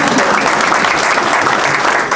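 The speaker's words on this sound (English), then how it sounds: "You can clap again." A press conference audience in Louisville, Kentucky claps for newly announced family learning partners, a short, full burst of close applause lasting a couple of seconds.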